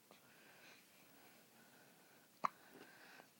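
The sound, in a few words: baby hiccups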